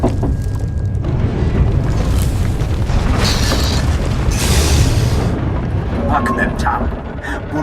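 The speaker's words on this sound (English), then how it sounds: "The ground quakes will not impede me." Deep, continuous ground-quake rumble in Star Wars: The Old Republic, a loud low roar building in swells for the whole stretch, with a voice talking over it.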